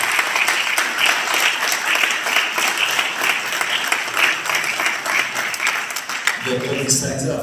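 An audience at a book presentation on the institutional history of Giulianova breaks into sustained, lively applause that carries on for several seconds, close and full, then thins as another sound cuts in at the end.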